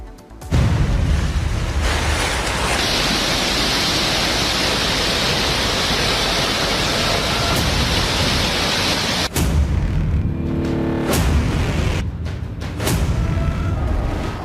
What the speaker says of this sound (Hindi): पूरे देश में बाढ़ बारिश का कहर लगातार जारी है